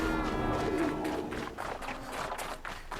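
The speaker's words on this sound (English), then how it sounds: "I can hear some glint hawks, but they don't see us." Glint hawks, machine creatures in the video game Horizon Zero Dawn, call from a distance amid busy, dense game ambience, their cries faint and partly buried in the steady background.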